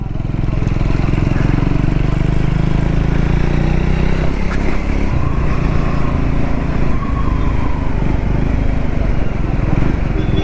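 A Triumph Scrambler 400X motorcycle hums steadily at a low engine drone while riding on the road, loud and continuous with wind rumble, as a rider talks over it.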